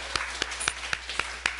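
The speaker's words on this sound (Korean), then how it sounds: "우리를 지켜주셨던 하나님께 영광과 감사의 찬송의 박수를 돌려드리겠습니다" A church congregation in Toronto claps in an even rhythm, six or so distinct claps spaced about a quarter second apart, fairly close but quiet.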